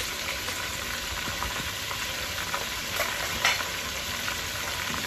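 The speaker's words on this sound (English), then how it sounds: "once the oxtail gets the sear" Oxtail searing in a hot pan gives a steady, close sizzle and crackle with small pops throughout, and no voices.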